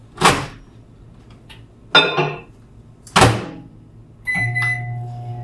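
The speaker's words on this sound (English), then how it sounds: "Now I'm going to stick this in the microwave." A microwave oven holding butter and chocolate chips in a kitchen: a few clicks and thunks as its door shuts and buttons are pressed, then the oven starts with a steady low hum and beep.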